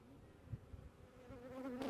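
Calm honeybees hum steadily around an open hive during a routine inspection of a newly installed nuc, with a continuous close buzz and a few louder passes near the end.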